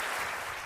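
Brief burst of audience applause, a short dense patter of clapping, faint and distant.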